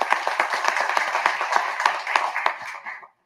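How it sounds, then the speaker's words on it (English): Applause from a press conference audience for a speaker at a Latino poll release, dense steady clapping of a modest crowd lasting about three seconds before stopping abruptly. "And a round of applause for Cindy."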